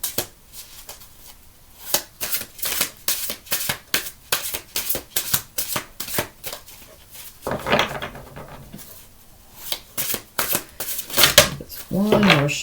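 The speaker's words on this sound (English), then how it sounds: "One more shuffle here." A deck of tarot cards is shuffled by hand in quick repeated riffling bursts, close and fairly quiet, with a person speaking in the middle and at the end.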